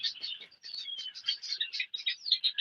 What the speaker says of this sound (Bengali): আর এখানে কিছু পাখি আছে